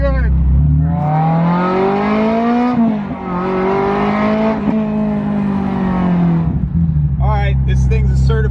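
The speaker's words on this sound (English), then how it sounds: "This thing's a certified ripper, F1 sounding race car." A straight-piped Ferrari F355 screams up through the revs, its engine pitch climbing hard for several seconds before dropping off as it settles back into a loud, close idle.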